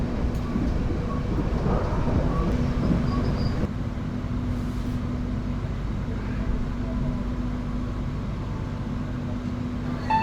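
Pandalungan passenger train running at high speed around 120 km/h, heard from inside as a constant heavy low rumble with a steady hum and faint rattles.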